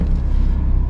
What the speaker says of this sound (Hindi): कार आपकी चल रही है